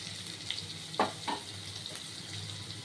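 A paste of capsicum, garlic, ginger and green chilli fries with a soft, steady sizzle in a pan, broken by a couple of brief clattering stirs, faint and close.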